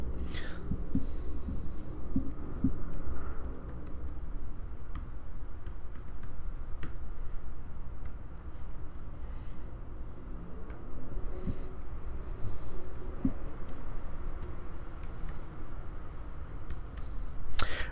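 Password being typed on a computer keyboard during software account setup, a steady run of soft, close key clicks over a low room hum with no talking.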